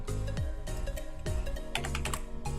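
Keys tapped on a computer keyboard while a folder name is typed, a steady run of light clicks over a background of music or hum, with no talking.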